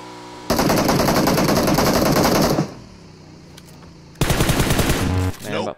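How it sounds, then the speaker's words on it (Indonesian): Automatic gunfire in the mobile battle royale PUBG Mobile comes in two loud, rapid bursts, a long rattling stream, a brief lull, then another sustained burst close up. "Nembak pula kawanku ini ya"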